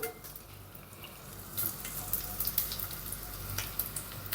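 Onions sizzling in a little oil in a heated frying pan, a steady close crackle with faint popping that swells slightly partway through.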